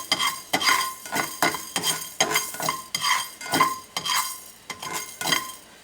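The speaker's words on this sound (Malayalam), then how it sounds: "ഉലുവ ഇട്ടിട്ട് ഇത് വറുത്തെടുക്കാം" Rhythmic scraping and stirring in a pan as fenugreek seeds roast, about a dozen strokes with light rattling of small seeds against metal, close and fairly loud.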